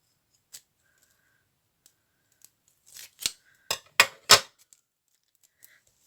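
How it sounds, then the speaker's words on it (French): Several crisp snips of sewing scissors cutting, sparse at first then a quick cluster of louder, close snips, with faint clicks around them. "Surtout pas avec mes ciseaux de couture."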